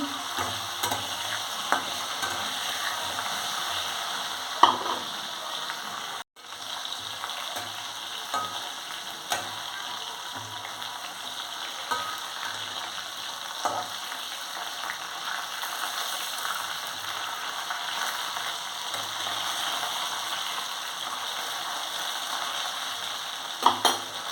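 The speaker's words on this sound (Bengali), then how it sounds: "আলু ফুলকপিগুলো আমি প্রথমে ভেজে নিচ্ছি" Potatoes and cauliflower frying in a pan for an egg curry, a continuous even sizzle with occasional stirring scrapes and small knocks, one brief dropout early on.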